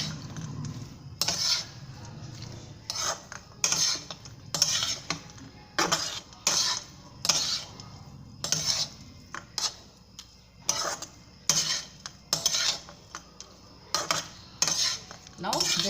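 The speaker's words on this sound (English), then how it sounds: "now add the groundnut and cashew nut" A metal spoon clinks and scrapes repeatedly against a pan while groundnuts and cashew nuts are stirred in for lemon rice, the strokes coming in a steady rhythm, close and fairly quiet.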